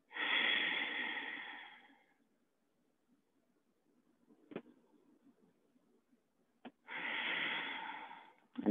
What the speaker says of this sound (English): inhale, feeling the entire capacity of your lungs, and exhaling with a sigh